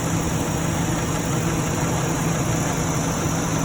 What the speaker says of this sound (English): This is a big engine, it's a big fan, big shroud. It's got a lot of air that it needs to move to keep this engine cool.